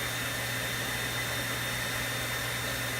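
A grinder working steel into a fire striker for flint and steel gives a loud, unbroken whirring drone with a faint steady hum, alone and without pause.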